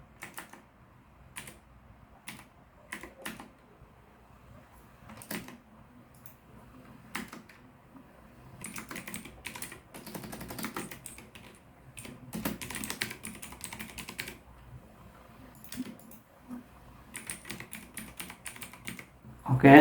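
Rapid, irregular keystrokes on a computer keyboard while text is entered into HTML form fields, clicking in close bursts with short pauses and no voice.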